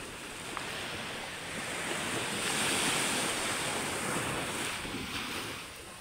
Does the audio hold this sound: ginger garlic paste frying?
no